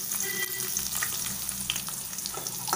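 Onions frying in butter with cumin in a pan, a steady close sizzle running throughout with occasional crackles and stirring scrapes, no voices.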